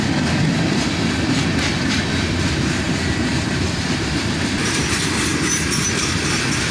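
CSX freight train rail cars rolling past close by, a loud continuous roar of wheels on track with rhythmic clickety-clack and occasional high wheel squeal, steady from start to finish.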